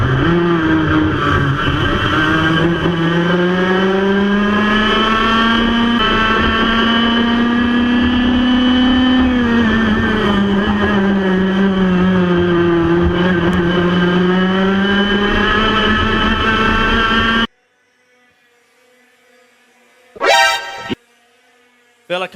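Racing karts at the Ipswich Kart Club circuit in Queensland run through a corner, engines droning and rising and falling in pitch for a long loud stretch, then cutting to near silence with a brief sharp burst.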